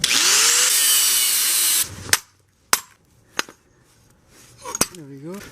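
A power tool whines loudly as it cuts through a car's electric power steering rack housing, then stops, followed by sharp knocks and clanks of metal parts, close to the microphone.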